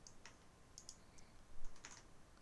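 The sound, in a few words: mouse clicking while drawing in CAD software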